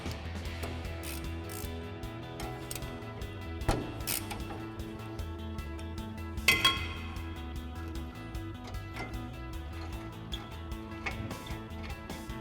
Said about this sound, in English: we can take our caliper bracket off. It's these 2 bolts with our 1/2" ratchet and 21mm socket